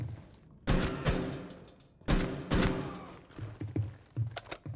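Gunfire in Rainbow Six Siege comes as two sharp, loud bursts of rapid shots, followed by several smaller thumping reports that fade and trail off.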